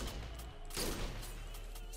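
Gunfire in a Roblox fighting game, a faint burst of shots under a steady low background hum with a slightly louder cluster near the middle.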